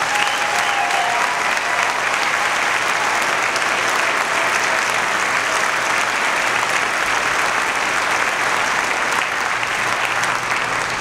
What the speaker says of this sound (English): Why don't you give them a great round of applause?